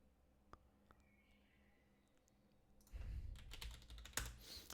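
Typing on a computer keyboard starts with a few isolated taps in a quiet room, then breaks into a loud, fast burst of clattering keys.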